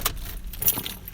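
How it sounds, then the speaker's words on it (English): Keys jangle as a 2013 Chevrolet Cruze is switched off, a short metallic rattle close by over a low engine hum that fades out. "let me turn the car off"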